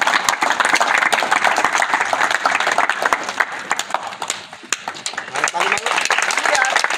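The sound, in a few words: audience clapping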